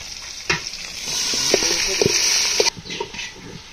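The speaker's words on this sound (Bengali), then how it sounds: "এই মশলা কষাইতে আছি" Spices sauté in a cooking pot with bay leaves, chopped onion and ginger-cumin-garlic paste, making a loud, steady frying sizzle. Close, sharp clacks of stirring come at irregular intervals.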